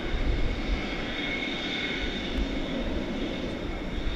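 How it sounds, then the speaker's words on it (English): A Boeing 727 jet airliner at DFW Airport produces a steady, distant engine roar and whine, a continuous broad rumble with a faint high tonal hum and no voices. "So yes, you're not seeing things. This is a 727."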